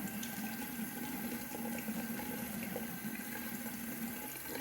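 Tap water runs steadily at a bathroom sink while a freshly shaved face is rinsed after an alum block, a continuous hissing flow at moderate level with no talking.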